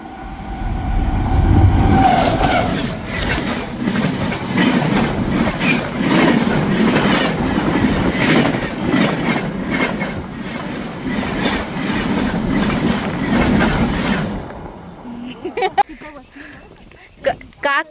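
A train passes close by amid green countryside near Malvan, a loud rumbling clatter of wheels and cars that holds steady for about fourteen seconds, then quickly falls away to near quiet with a few faint knocks.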